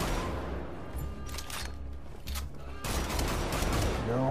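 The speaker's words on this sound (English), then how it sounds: "who's shooting at me?" Gunfire in the first-person shooter Wolfenstein: The Old Blood comes as sharp bursts of shots over a rumbling battle din, with a heavy impact near the middle before the noisy firefight continues.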